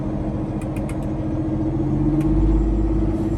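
A custom Peterbilt dump truck's diesel engine idles with a deep, steady rumble that rises slightly in pitch and fullness toward the end as the RPM is bumped up, with faint clicks over the top.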